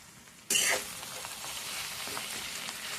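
A vegetable dish in oil with ground peanut chili powder crackles loudly as stirring begins suddenly, then settles into a steady broadband sizzle with soft scraping of the spoon in the pan, no voices.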